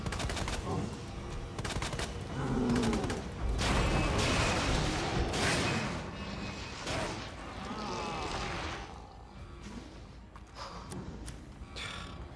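Rapid gunfire from Resident Evil 2 crackles in bursts over several seconds, loud and busy with mechanical clatter, easing into scattered shots toward the end.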